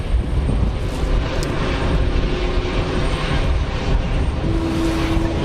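An EasyJet airliner's engines rumble loud and steady at Geneva Airport, a sustained broadband roar with a low hum rising near the end and no speech.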